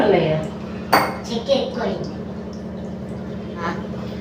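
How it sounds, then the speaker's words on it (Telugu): Gulab jamun flour being mixed with milk and water in a bowl, with a sharp utensil clink near one second and softer scraping knocks against the bowl, all under steady background hum and talking. "ఇప్పుడు ఇందులో ఈ పిండిలో వచ్చేసి పాలు అలాగే వాటర్ అయితే వేసుకొని కలుపుకుంటున్నాను"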